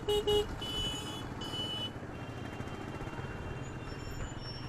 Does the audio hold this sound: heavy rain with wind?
no